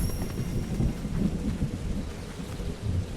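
Storm thunder in the video game Fortnite rolls as a steady, loud low rumble with rain-like noise. It carries on for the whole stretch with no voices.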